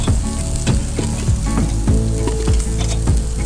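Fresh dove meat sizzles over a hot open fire, making a steady, close crackle with brief pops throughout.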